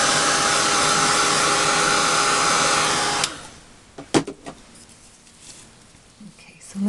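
A hair dryer blows loud and steady up close over a watercolour card for about three seconds, then shuts off, leaving faint clicks and handling noises.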